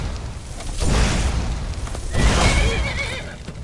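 A horse neighs in the video game Skyrim, two loud whinnying bursts amid battle noise and rumbling booms.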